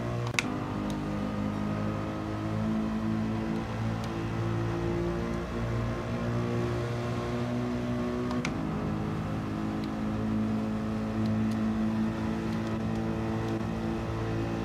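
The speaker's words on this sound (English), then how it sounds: "Those hypercars are coming" Hypercar engines in a video game drone and rev steadily throughout, a dense layered motor roar with a few sharp clicks and brief spikes, loud and continuous with no talking.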